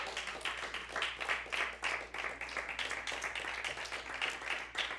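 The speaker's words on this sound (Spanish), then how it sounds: "¿Alguien le puede dar un aplauso al Padre en esta noche?" Congregation applause at an evening church service, a fairly faint, rhythmic clapping from many hands with pulsing surges, distant-sounding over a low steady hum.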